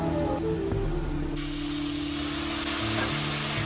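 Water splashed into hot oil and spices in a pan for a Bengali bhetki fish-bone curry, giving a steady close hiss and sizzle throughout.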